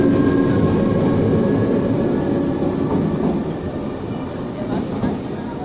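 Steady rolling rumble of a train moving nearby, slowly easing off in loudness with a faint mechanical hum on top.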